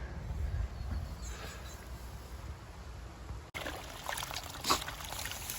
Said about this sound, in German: Und da hörst du schon, das Wasser fließt schon dahin.